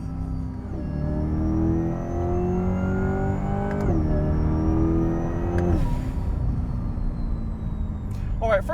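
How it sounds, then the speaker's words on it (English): Supercharged Corvette C8 E-Ray accelerating hard, loud steady V8 rumble with a rising electric whir climbing through gears, shifting around the middle and end, heard close from inside the car. "you get the harmony of that V8 rumble, and then you have like the alien spaceship whir of the E-Ray"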